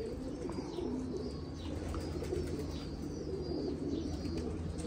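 Low, soft cooing of pigeons close by, repeated throaty calls layered over a steady background hum, with a few faint chirps.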